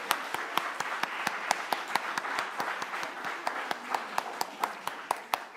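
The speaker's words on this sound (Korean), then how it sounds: "우리 아빠 엄마가 된 것을 축하해서 박수 한번 박수" A church congregation claps in celebration of new parents, a fast, regular run of sharp hand claps sounding close and steady from start to end.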